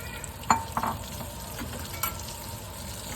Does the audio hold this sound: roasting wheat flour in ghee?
yes